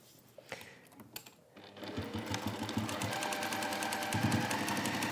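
A sewing machine stitches down the side of a lined origami bag folded right sides together, quiet at first and then running in a steady, fast mechanical chatter that continues to the end.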